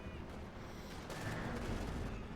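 Company of Heroes 2 battle sounds as a .50 caliber machine gun fires on exposed gunners, a quiet, dense rattle of gunfire with muffled booms running throughout.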